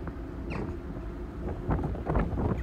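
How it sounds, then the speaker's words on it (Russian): Strong wind rising over a ship docked in Rotterdam port gusts against the microphone in low rumbling buffets, growing a little louder toward the end. "Поднимается уже сильный ветер."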